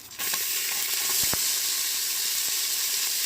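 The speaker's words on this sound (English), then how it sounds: "So I'm going to saute some of those onions for now." Onions sauteing in oil in an Instant Pot give a steady loud sizzling hiss that starts abruptly and holds constant, with a couple of faint clicks partway through.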